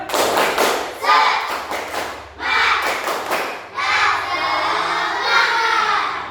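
Classroom of Indonesian schoolchildren performing the 'tepuk semangat' spirit clap: loud bursts of rhythmic clapping and thumping in several rounds, mixed with children's shouting voices.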